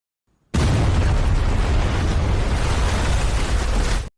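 A time bomb hidden in a package explodes in a film, a loud sustained boom that erupts suddenly and rumbles at full force for about three and a half seconds before cutting off.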